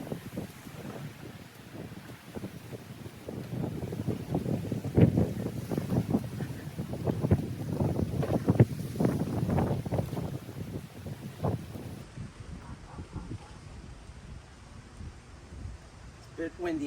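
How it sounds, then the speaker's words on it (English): Steady wind buffets the microphone outdoors in a fig garden, a low rumbling roar that swells and gusts for several seconds before easing off. "It's a bit windy out here"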